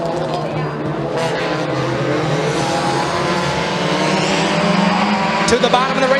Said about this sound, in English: green flag goes in the air as they are racing and heading into turn number 1